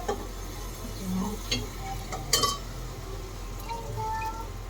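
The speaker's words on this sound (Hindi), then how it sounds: "अब फिलहाल मैंने दाल तड़क ली है, तड़का लगती है" Soft sizzling and stirring in a pan as spices temper lentils, with occasional light clinks and drips, fairly quiet against a low background hum.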